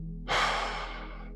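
A single deep breath, an audible inhale that swells quickly and then trails off softly, close and alone without any talking.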